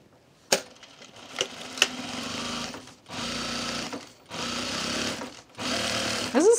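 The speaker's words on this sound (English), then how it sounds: "I'm gonna backstitch right over those pockets too." A home sewing machine backstitches through thick fabric over the pockets of a divided fabric basket, running in several steady whirring bursts separated by short pauses, with a few clicks at the start, close by and with no talk.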